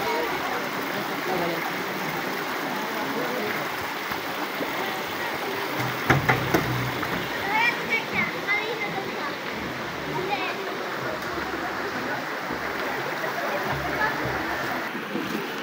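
Water rushes and churns continuously with a broad, steady roar during a holy week water blessing in Kinabuhayan, Dolores, Quezon, while a few voices talk faintly under it.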